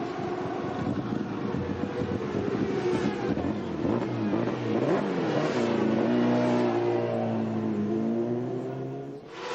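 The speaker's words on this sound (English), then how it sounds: "with the engine initially reluctant to get going" A racing motorcycle engine roars close by, its pitch climbing and falling as it revs repeatedly at the Suzuka 8 Hours race, loud and continuous throughout with no voices.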